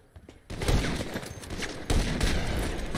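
Video game gunfire with sniper rifle and pistol shots during a race match, a dense run of loud cracks and booms starting after a brief quiet lead-in, with a second burst later.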